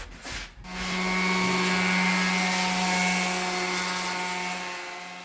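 An electric sander runs steadily on a plaster wall coated in bonding plaster, a loud continuous whirring drone with a sustained hum that starts after a brief scuffing moment and holds level to the end.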